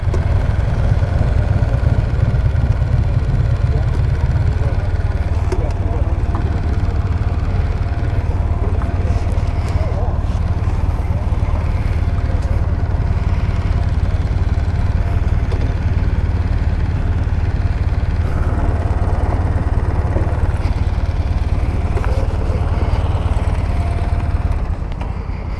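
Kawasaki W800 motorcycle engine and exhaust running steadily with a deep low rumble throughout, loud and close, with faint voices occasionally under it.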